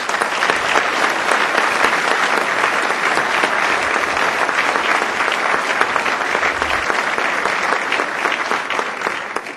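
Sustained audience applause at an Ontario government financial services announcement, a steady, dense wash of many hands clapping from start to end with no voices on top.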